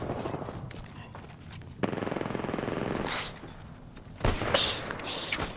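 Sharp gunfire bursts in the Apex Legends video game, a few loud cracks and rapid shots with high metallic pings, ending in a sniper hit, set against busy game ambience.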